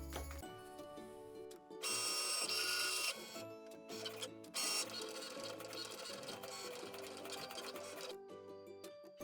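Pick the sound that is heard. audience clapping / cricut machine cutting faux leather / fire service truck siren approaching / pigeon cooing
cricut machine cutting faux leather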